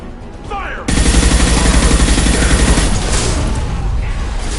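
Heavy sustained gunfire erupts suddenly in Mass Effect 2 after a quieter stretch, a dense loud barrage of rapid shots continuing to the end with a slight easing, in a firefight against the Blood Pack.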